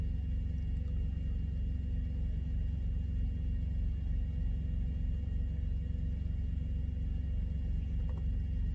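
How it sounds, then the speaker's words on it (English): Steady low engine rumble from idling vehicles at a truck stop, a continuous drone with faint hum and no voices, holding evenly throughout. "A little bit noisy here. I'm sitting there at the truck stop."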